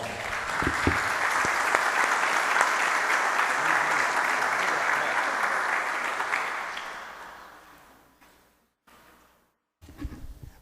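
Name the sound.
audience applause welcoming a priest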